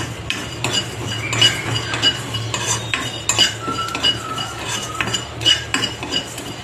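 Whole fennel seeds, coriander seeds and black peppercorns dry-roasting in a pan, with a utensil scraping and clinking against the metal in steady, repeated strokes, close up and fairly loud with no talking.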